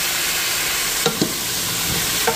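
Mackerel curry gets stirred in a pan, a steady sizzle running under a few distinct scraping strokes near the middle and again at the end, close and moderately loud.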